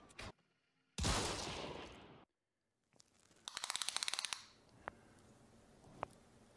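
Shotgun blasts in the video game Hunt: Showdown: one heavy, booming shot rings out, then after a pause a rapid metallic burst of clicks and another blast, with faint clatter afterward.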